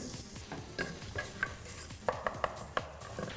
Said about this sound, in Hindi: now time for the ginger and the onion to go in